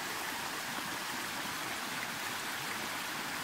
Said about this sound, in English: Let's just get a good shot of the creek here. Yeah, that's very full.